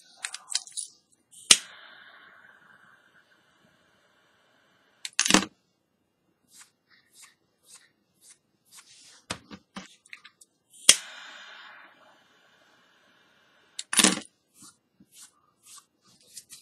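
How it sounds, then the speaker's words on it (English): Scissors snip the ends of a handmade Solomon cobra paracord bar, with four sharp cuts spaced several seconds apart and light handling clicks and rustles between them, close and quiet. "So I'm going to just go ahead and cut these right here."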